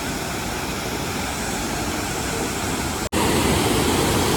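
Overflow water from Powai Vihar lake in Mumbai rushing down after heavy rain: a dense, steady roar of falling water, loud and continuous, with a brief dropout before the torrent resumes.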